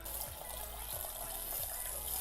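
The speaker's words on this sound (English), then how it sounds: "You're gonna fill up the syringe with water as much as you want." Water running from a tap to fill a syringe for blowing out eggs, a steady close rushing stream with no voices.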